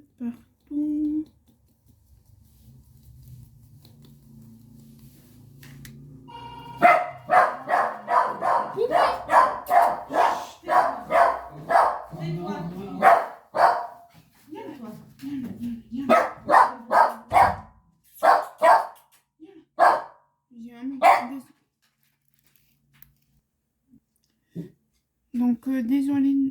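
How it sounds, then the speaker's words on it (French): A dog barks at the doorbell in a quick, loud run of repeated barks close by, then falls quiet before a few more bursts near the end. "vous avez dû entendre un peu bruit, c'est mon chien parce qu'il y a quelqu'un qui a sonné."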